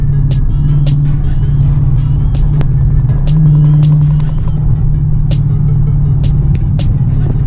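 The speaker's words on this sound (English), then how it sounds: "wake this Charger up a little bit" A Dodge Charger with a Hemi engine rumbles loud and close, its deep steady idle swelling briefly into a rev over the constant roar, with ticking clicks in the background.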